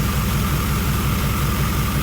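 A 1990 Chevrolet Silverado engine runs rough at idle after a no-start problem, a loud, close, low rumble with an uneven pulsing throb and no voices.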